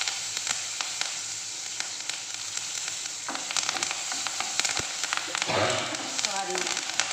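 A South Indian tempering of urad dal and curry leaves crackles and sizzles in hot oil, a dense steady frying hiss with sharp pops and spatters, and a ladle scrapes and stirs near the end.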